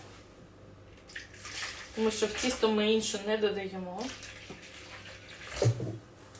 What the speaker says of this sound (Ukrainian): Додаю 300 грам води. Вода питна в мене